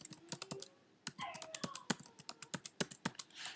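A password is typed on a computer keyboard in a quick run of crisp, close keystrokes with brief pauses between bursts, and a faint voice is heard under the clicking.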